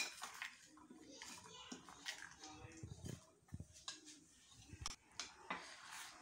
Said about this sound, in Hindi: नारियल ऐड करेंगे, बादाम ऐड करेंगे। इसको अच्छी तरह मिक्स कर लेंगे।